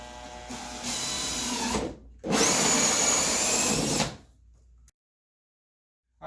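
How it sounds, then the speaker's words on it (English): A power drill whirs loudly up close while boring holes for a 12-volt USB volt meter panel on a Brooklyn PK13, two sustained bursts separated by a short pause, then winding down to silence. "now we got the holes already drilled"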